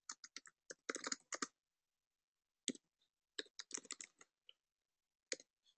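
Clicky computer keyboard under quick typing, with bursts of rapid keystrokes separated by short pauses and a few isolated taps, close and clear in a quiet room.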